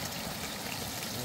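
A large river rushes steadily beside a campsite, a constant, fairly loud broadband wash of flowing water with no voices.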